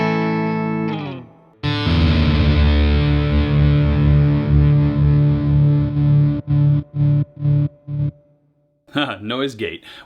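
Distorted electric guitar in drop D plays a riff: a loud sustained heavy chord followed by sharp choppy stabs with gated silences, then a short burst of bending notes.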